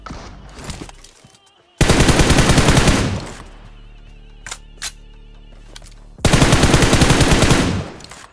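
Machine-gun fire in the mobile battle royale game BGMI comes in two loud, rapid bursts of dense automatic shots, separated by a quieter stretch with a couple of isolated single shots.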